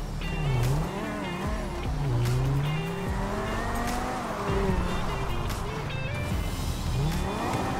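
A car racing at high speed along a highway in the video game GTA V, with a revving engine rising and falling through gear changes and tyre squeal, loud and continuous with no talk.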